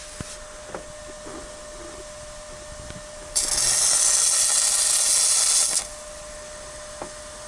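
Stick welding with a welding rod in a home workshop: a loud, steady crackling hiss starts abruptly and runs for about two and a half seconds, then cuts off, with a few faint clicks before and after.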